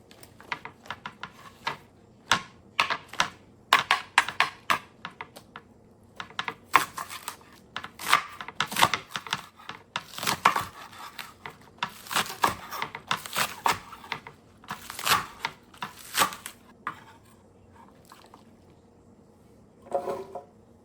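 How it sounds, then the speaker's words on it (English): Knife chopping spring onion on a cutting board, heard as a fast run of sharp close taps in irregular bursts with short pauses, during preparation of a green seasoning marinade for chicken. "So I'm going to chop this into smaller sizes."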